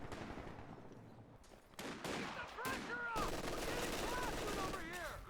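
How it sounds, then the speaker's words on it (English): An MG42 machine gun fires in a World War II strategy video game, a burst of rapid gunfire that rises partway through and continues amid other battlefield sounds, with a steady background of game noise. "MG42 opens up to the garrison."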